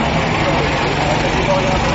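A Ford Model T engine runs steadily at close range, a loud continuous rumble with no breaks.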